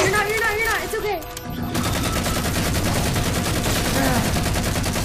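Rapid automatic gunfire from the Halo 4 video game rattles on in dense, continuous bursts, loud and close, with a short lull near the start and a voice talking faintly in the mix.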